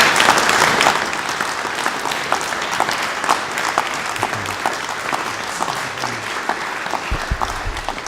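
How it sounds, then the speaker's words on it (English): An audience applauds Dr. Roy Wales at a composers competition reception, dense clapping at its loudest in the first second, then settling into steady sustained applause for the rest of the stretch. "Please give Dr. Roy a big round of applause"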